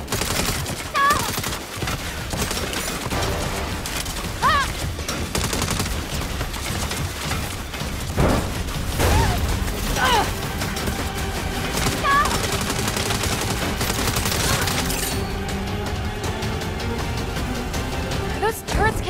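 Sustained turret gunfire in the Saints Row reboot on PS5 rattles continuously for the whole stretch, a dense, steady barrage with heavier thumps mixed in and faint voices underneath.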